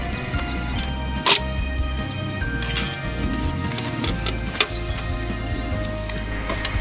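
Metal sticks are pulled off a compact folding Firebox camp stove, giving a few sharp, close metallic clinks and light rattles against a quiet background.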